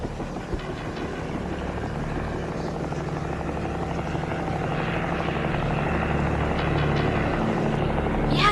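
A helicopter in a Hollywood movie scene drones steadily with a continuous rotor chop and engine whine, growing slightly louder as it passes overhead, with no talk over it.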